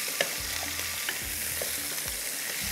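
Vegetables frying in butter in a pan, a steady soft sizzle with a few light stirring clinks throughout, close and continuous with no talking.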